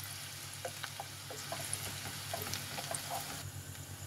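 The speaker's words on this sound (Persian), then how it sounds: "پیاز های ریز خرد شده رو داخلش میریزیم، یک کمی تفت بدیم تا کمی سبک بشه" Finely chopped onions frying in hot oil for a Persian tomato rice dish, giving a steady soft sizzle with faint scattered pops and crackles throughout, fairly quiet and without talk.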